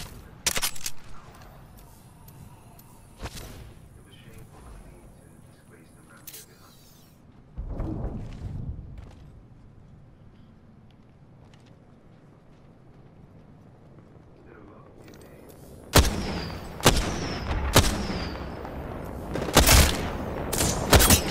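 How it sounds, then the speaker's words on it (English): Gunfire in Apex Legends: scattered faint shots early on, then a burst of sharp, close shots near the end. A voice is heard at times. "Listen up, I'm getting shot at. Pretty sure someone's got a shot on me."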